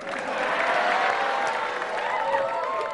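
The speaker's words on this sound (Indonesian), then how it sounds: "Sekali lagi tepuk tangan buat saya." A crowd claps steadily and warmly throughout, with scattered cheers and voices mixed into the applause.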